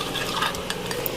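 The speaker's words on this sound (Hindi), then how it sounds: "थोड़ा थोड़ा करके आपको पानी डालना है ताकि इसके अंदर कोई लम्स ना बने, और अच्छी तरह मिक्स करना है इसको" A flour and water mixture for chicken nihari is stirred briskly in a bowl, giving a continuous wet, scraping swish with small clicks of the utensil.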